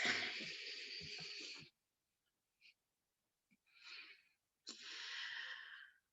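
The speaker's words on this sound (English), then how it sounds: "And breathe." Deep, slow breaths heard close and alone: a long airy inhale or exhale, a pause, a short faint breath, then two more long breaths, the last one strong.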